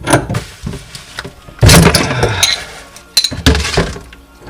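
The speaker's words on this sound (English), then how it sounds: "now with the 2 wrenches we're going to loosen this up so we can undo the valve off the pipe" Two wrenches loosening a water shut-off valve from a pipe, with sharp metallic clanks and grinding scrapes in a few close, loud bursts separated by short pauses.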